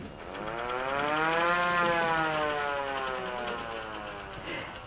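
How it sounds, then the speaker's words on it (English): A hand-cranked air raid siren winds up into a loud rising wail, holds its howling tone, then slowly falls away as cranking stops. "The last hand-driven air raid siren for Mayview is over here."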